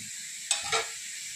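Bitter gourd with garlic and crushed peanuts sautés in a hot kadhai, a steady quiet sizzle broken by two short, sharper bursts of stirring.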